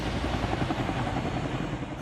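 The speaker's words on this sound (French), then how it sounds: "j'ai entendu un énorme hélico arriver" A steady, heavy large-helicopter rotor drone fills the air, continuous and fairly loud, with no voices.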